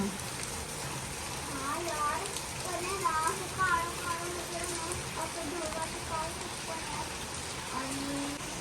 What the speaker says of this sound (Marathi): खूप पाऊस पडतोय मोठा